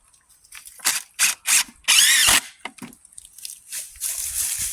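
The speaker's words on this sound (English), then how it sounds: "it's just a case of screwing the trap on" Short bursts of a power driver sinking 50mm Tek screws to fix a Timms trap to a tree trunk outdoors, several quick whirring runs close by, one longer with a rising whine.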